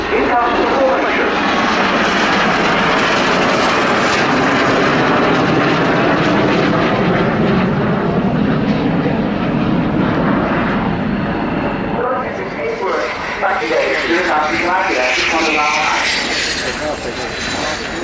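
Formation of six F-18 fighter jets flying past at the RIAT airshow, a loud sustained roar of jet engines that swells and shifts as they pass, with commentary over the noise.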